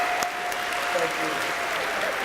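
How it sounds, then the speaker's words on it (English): A crowd at a bitcoin event claps for Edward Snowden, a continuous wash of applause at even loudness with a faint tone running underneath. "can we give a huge round of applause for a freedom fighter?"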